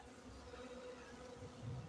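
A steady, dense buzzing of many honeybees at an open hive, humming close by, continuous and fairly quiet throughout.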